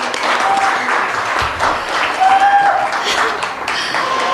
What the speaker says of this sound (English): One word applause for our Tiny Tots for today